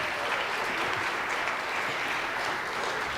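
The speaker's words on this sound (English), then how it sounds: "How about another round of applause for those soloists?" Dense, continuous applause fills the hall at a middle school spring jazz concert as the audience cheers the soloists, a steady wash of many hands clapping throughout.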